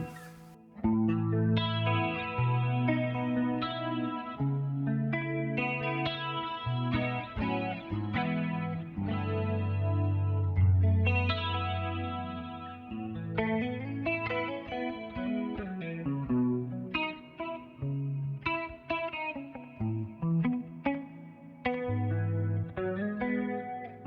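A clean 80s-style electric guitar runs through a Rockman-style compressor into a Fuchs-modded Fender Twin amp model with a vintage digital slapback delay, playing chiming chords and arpeggiated lines continuously and up close, with no talking.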